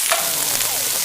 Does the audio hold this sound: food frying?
yes